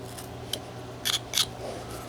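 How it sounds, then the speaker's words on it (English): A whittling knife cuts small notches into a wooden rhino carving, a few short, crisp scraping snicks spread over two seconds, close and quiet above a low steady background hum. "Now we want to make a little cut just like in here,"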